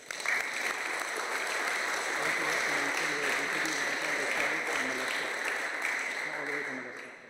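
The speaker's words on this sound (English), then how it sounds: "So if we could just give them a round of applause." Steady, full applause for Guam Army National Guard members at a certificate presentation, sustained dense clapping from a sizable audience that holds level throughout and tapers slightly at the very end.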